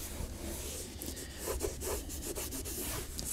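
A cloth wipes cockpit care spray across interior car plastic right up to the edge, making a quiet, steady rubbing swish with faint scuffing strokes, close but soft.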